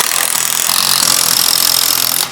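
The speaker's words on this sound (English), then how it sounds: "tighten up these U-bolts. You want to make sure you tighten them pretty evenly" A power tool tightens the U-bolts on a MegaSport Overland tent trailer. It gives a loud, continuous, close-up whir for about two seconds and then cuts off.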